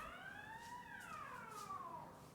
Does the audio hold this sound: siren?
yes